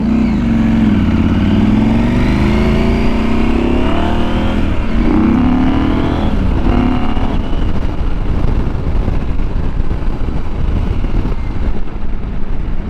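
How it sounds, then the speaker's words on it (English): A KTM 790 Adventure R motorcycle being ridden in fourth gear, its engine roaring loud and close with rising and falling revs over strong wind rush, continuing steadily throughout. "I'm in 4th gear though."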